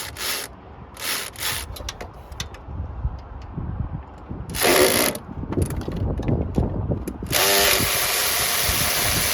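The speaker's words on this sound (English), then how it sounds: "Just take the bolts out so I don't lose them." Bolts being removed from a junkyard Honda H22 transmission with a hand ratchet: repeated clicking ratchet bursts and metallic rubbing, fairly close, with short pauses between runs of turning and no talking.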